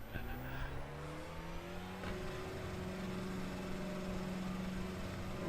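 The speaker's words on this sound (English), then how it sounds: "Rev limiter." A race car engine in iRacing sits bouncing off its rev limiter, a steady buzzing drone with rapid stuttering cuts that holds at constant pitch throughout, loud and close with nothing else over it.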